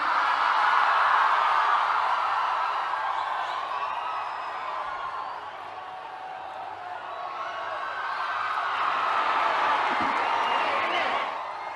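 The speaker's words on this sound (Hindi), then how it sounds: "एक बार जोरदार तालियां माननीय प्रधानमंत्री जी के स्वागत में." A large crowd claps and cheers to welcome the Prime Minister at a public event in Visakhapatnam, a sustained, broad wash of applause with scattered whoops, dipping briefly midway before swelling again.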